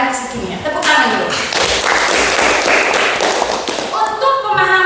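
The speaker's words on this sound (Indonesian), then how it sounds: "Tepuk tangan dulu." Students in a chemistry classroom break into sustained group clapping, dense and fairly loud, with voices mixed in and talk resuming near the end.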